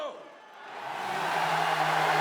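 Chainsaws revving up in the stock saw discipline of a STIHL Timbersports team world championship, a rising motor whine that builds and holds loud, with a crowd and commentary faintly underneath.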